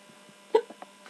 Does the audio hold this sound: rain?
no